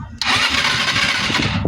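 A Euro 150 fuel-injected scooter engine cranks and sputters loudly and continuously after a spark plug change, a steady mechanical whir that never quite catches into a smooth idle.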